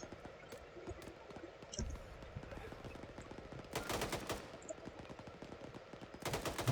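Fairly faint, rapid bursts of automatic gunfire aimed at a tank in the ArmA 3 video game, a rattling string of shots with a few sharper, louder volleys breaking through.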